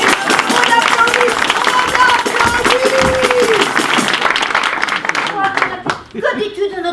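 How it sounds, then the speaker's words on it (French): Theatre audience applause, a burst of dense clapping under a voice talking over it, thinning out toward the end. "On applaudit."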